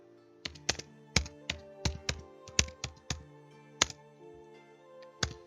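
A computer keyboard types out a short prompt in irregular bursts of crisp, close keystrokes with brief pauses between words, and nobody speaks.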